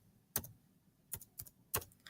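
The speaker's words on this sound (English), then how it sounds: "So all I'm doing is holding down the Alt key and typing A, E, I, O, U" Keys tapped on a Chromebook keyboard while the right Alt key is held and vowels are typed: four crisp, separate clicks, close and fairly loud, spaced unevenly over a quiet background.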